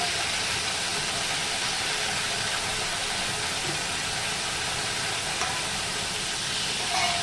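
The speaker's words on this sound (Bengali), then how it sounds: "এবার এই মশলাটা দিয়ে সমানে কষাবো" A paste of ground ginger and green chilli with salt, turmeric and a little sugar sautés in a pan, giving a loud, steady, dense hiss that runs unbroken throughout.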